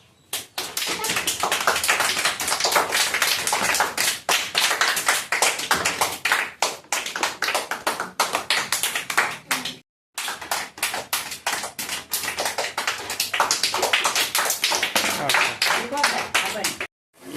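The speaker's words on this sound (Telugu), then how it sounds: "క్లాప్స్" Sustained applause from a group of students in a classroom, dense rapid clapping that briefly stops near the middle and then resumes just as loudly.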